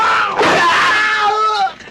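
A loud, close scream from the samurai film Samurai Wolf, rising sharply and held for over a second before cutting off, alone without talk.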